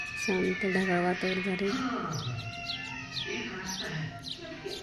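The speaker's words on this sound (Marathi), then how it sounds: "मस्त चिमण्यांचा किलबिलाट" Sparrows chirp outdoors on a cloudy day after night rain, with quick high twitters scattered through the scene while someone talks over them.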